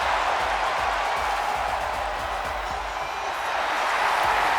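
A steady wash of crowd roar fills a WWE 2K24 video game arena during a Friday Night SmackDown main event, broad and continuous for several seconds without a clear break.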